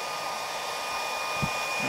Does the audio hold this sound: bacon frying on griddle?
no